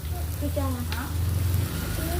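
Pork sizzles steadily on a tabletop grill, a continuous crackling hiss, with faint voices in the background.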